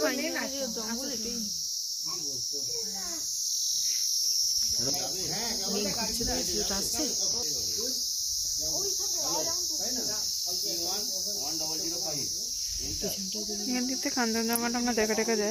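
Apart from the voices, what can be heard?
crickets chirping at a quiet hill viewpoint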